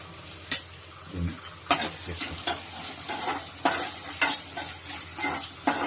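Raw vegetables for curry fry and sizzle in a pan with coarse salt, with repeated scraping stirs and occasional sharp clinks of a utensil against the pan, close and steady with no talking.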